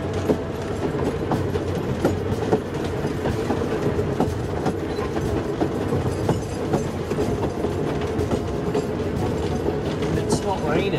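A heritage picnic train runs steadily along the rails, with a continuous rumble, rhythmic clickety-clack from the wheels and mechanical rattling throughout, heard close up.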